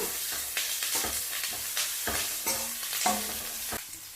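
Onions fry in a pan with a crackling sizzle while a spoon stirs them in quick, rhythmic scraping strokes roughly every half second, close and fairly loud.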